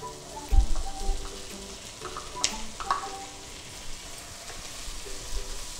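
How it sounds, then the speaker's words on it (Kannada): Capsicum sizzles and fries in a pan in a kitchen, a crackling sizzle with a few clanks and stirring knocks, close and moderately loud, with no speech. "ಹೌದು, ಕ್ಯಾಪ್ಸಿಕಮ್ ಹಾಕ್ತೇನೆ ಈಗ."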